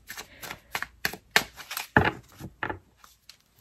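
Tarot cards being shuffled by hand, a quick series of crisp riffling snaps and soft slaps in an irregular rhythm, close and fairly quiet, with no speech over them.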